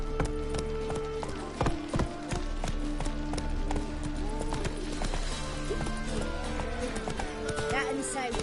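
Roach, the horse in The Witcher 3: Wild Hunt, gallops with a steady, loud clip-clop of hooves under game music and ambience, while a character speaks over it.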